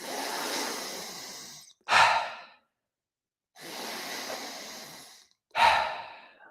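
Deep breaths in a breathwork exercise come close and clear: two long airy inhales or exhales, each closed by a sharp forceful release, with silent gaps between and no talking.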